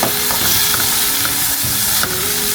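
Squid stir-frying with chili in a hot pan, a steady dense sizzle with soft stirring scrapes throughout, close and continuous with no talking.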